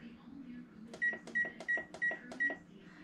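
Oven control panel beeping as bake and 375 are keyed in, a quick series of about six short, bright electronic beeps close by, with a voice talking softly underneath.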